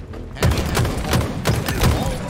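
A grenade blast in the multiplayer shooter Halo Infinite, heavy booming thumps repeating roughly every half second over a dense bed of gunfire and game noise, loud and close.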